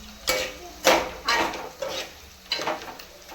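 Puris frying in hot oil give off a steady sizzle broken by several sharp bursts of bubbling and the clatter of a utensil, in irregular surges over a few seconds.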